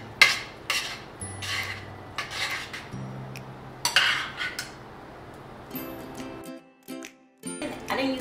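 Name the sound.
mixed vegetables being added to chicken pot pie mixture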